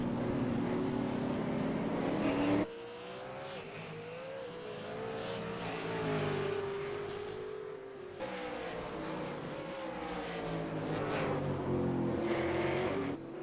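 Race car engines roar on a circuit, dropping in pitch under braking and then climbing through the gears as the cars accelerate. The sound is loud and continuous, with more than one car audible.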